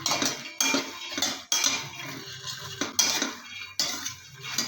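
Pepper powder and salt are stirred in a pan for a makhana snack, producing repeated bursts of loud metallic scraping and clinking, several strokes each, separated by short pauses.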